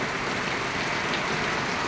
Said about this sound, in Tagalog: At lakas ng ulan.